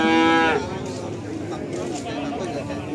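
A Limousin cow at a cattle market in Kerek gives one loud, close moo lasting about half a second, then market chatter and people talking fill the background.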